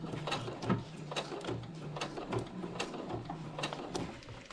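A sewing machine back-stitching a dyneema stuff sack, giving a steady run of mechanical ticks and clatter from close by, with a low motor hum underneath.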